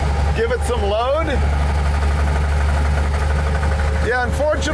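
Car engine running under load with a new abnormal noise, a loud steady drone with whining tones, while people talk over it.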